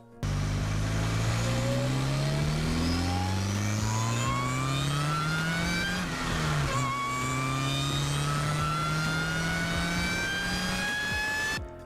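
A cheap sports car fitted with a cold air intake revs up through rising gear pulls, its engine note climbing, dipping at a shift midway, then climbing again, loud and close throughout without any voices.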